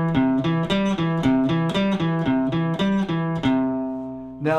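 A guitar picks out a steady, repeating root-third-fifth triad arpeggio, each note distinct and ringing, played alone at moderate loudness.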